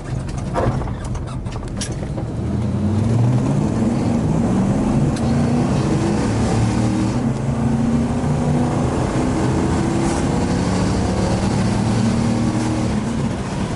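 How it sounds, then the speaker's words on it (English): A 1969 Plymouth Road Runner driving at speed, its engine drone rising and falling through gear changes under steady road and wind noise, loud and continuous with no voices. "You can see that the car pulls, it runs, and shifts nice and clean and crisp"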